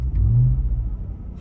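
A Ram TRX pickup truck launching under launch control gives a deep, loud engine rumble that swells briefly and then eases off, with no talking over it.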